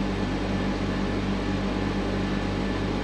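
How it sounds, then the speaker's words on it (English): An air conditioner runs inside a room at a campsite at Boundary Bend on Australia's River Murray, giving a steady, even, broadband whooshing hum with a low drone underneath. It holds constant throughout, with no talk. "Sorry about the aircon noise."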